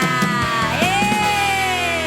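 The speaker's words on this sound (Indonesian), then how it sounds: "Haleluya, beri sorak-sorai untuk Tuhan kita." A church congregation at a Sunday service cheers and shouts in praise, a loud sustained roar of whoops and yells with rising and falling tones, no clear speech.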